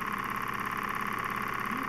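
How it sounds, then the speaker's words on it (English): A small vertical Stirling engine runs steadily, giving off a continuous close mechanical hum with a fast even rhythmic pulse. "I hope Brian likes this engine"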